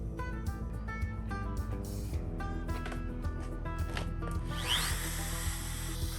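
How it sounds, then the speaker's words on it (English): A trim router cuts along edge banding on drawer sides for a miter station build, a steady whining motor with shifting tonal lines that runs continuously and fairly loud, alone with no talking. "for this round of edge banding, I decided to use my trim router to finish off the edges"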